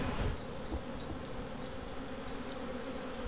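A swarm of bees buzzes steadily and densely close by on a town main street, a continuous droning hum with a brief louder knock at the start.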